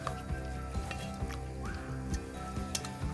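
Ground cinnamon being stirred into a vegan dish in a hot pan, with a steady sizzle and the soft scrape of a spoon at a few irregular points, close and moderately loud.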